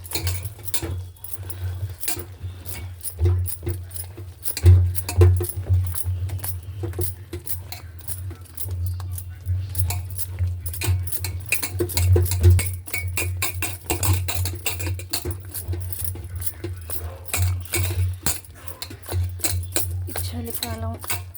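Urad dal vada batter with onions, green chillies, coriander, cumin and salt being mixed by hand in a bowl, giving a steady, wet squelching and patting that continues throughout.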